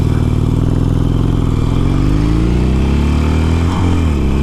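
A wrecked Harley-Davidson motorcycle with chipped paint runs loudly up close, its deep engine rumble shifting pitch a couple of times as it changes gear with a clunky feel.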